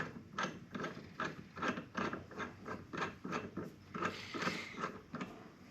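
A puller is turned with a tool to draw the flywheel off a GY6 150cc scooter engine, giving a close, rhythmic series of ratcheting clicks at about two per second, repeated steadily throughout.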